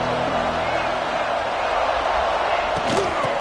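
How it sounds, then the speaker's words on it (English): Football stadium crowd at a college game between Nevada and PSU: a broad, steady roar of many voices filling the whole stretch, with no single sound standing out. "This crowd ready to make its presence known."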